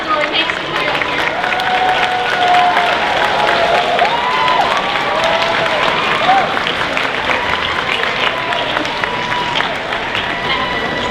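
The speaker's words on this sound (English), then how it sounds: "Give him a round of applause" An audience at a convention masquerade costume judging gives a sustained round of applause lasting the whole stretch, with dense clapping and a few cheers layered over a bustling crowd.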